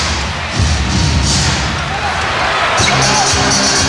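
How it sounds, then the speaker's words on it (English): A loud arena crowd at a 1993 NBA playoff game between the Suns and Lakers in Phoenix roars and chants rhythmically, with a basketball bouncing and a commentator talking over the dense crowd noise. "The crowd chanting, beat LA."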